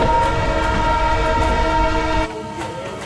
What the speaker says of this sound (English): While having snacks, the train then took off.